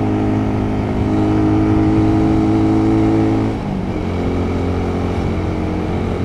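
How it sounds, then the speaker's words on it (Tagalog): Motorcycle engine droning steadily on a solo long-distance road ride through San Isidro, Batangas, holding a sustained tone that dips briefly as the throttle eases before settling back into a steady hum, with no talking. "Pagod na yata yung motor ko"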